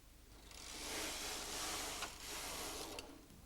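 A knitting machine carriage sweeps across the needle bed to knit a row, giving a steady mechanical whirring rattle that rises from about half a second in and runs on to the end, with small clicks near the finish.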